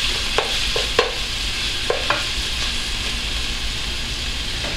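Chopped onion fries in a pot for a carapulcra base, a steady close sizzle broken by several sharp scrapes and clacks of a spoon stirring against the pot.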